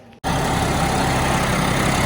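A Sonalika 35 tractor engine starts up abruptly after a brief quiet moment, then runs with a loud, steady rumbling drone close by, without talk.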